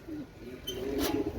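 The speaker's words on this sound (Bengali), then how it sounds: "ডাইন সাইডে হচ্ছে পাকিস্তানি রামপুরি কবুতর" Pakistani Rampuri pigeons give soft, low cooing calls close by, a few short throaty coos in quick succession against faint background noise.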